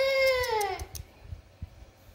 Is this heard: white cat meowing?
yes